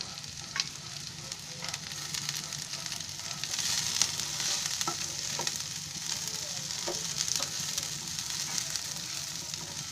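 Whole garam masala spices, roasted with oil in a pan, give a continuous close sizzle with occasional light scrapes and clicks as they are stirred. No one speaks.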